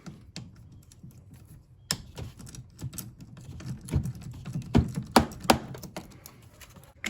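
Work on a 2018 Honda CR-V with a no-start condition, removing the negative battery terminal: sharp close metallic clicks and taps from the tool in irregular bursts, growing busier toward the end, no talking.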